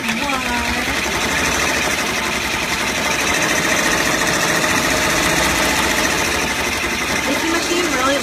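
A sewing machine stitching an owl-themed freezer pop cover runs loud and continuous from start to finish, a steady mechanical whir with a fast rattling needle rhythm, close by.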